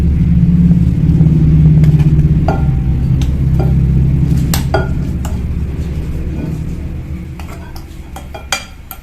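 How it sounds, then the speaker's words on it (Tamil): A kitchen mixer grinder whirs loudly as it blends a flour mixture for a sweet dumpling recipe, a steady motor drone that gradually fades, with scattered clinks and rattles of the jar toward the end. "மிக்சியில் போட்டு எல்லாத்தையும் ஒரு 2 சுற்றி எடுத்துக்கிட்டு"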